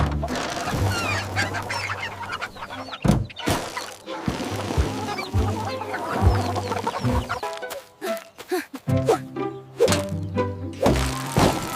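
Cartoon farm chickens cluck in short repeated bursts, mixed with thumps, honks and playful music in an animated scene.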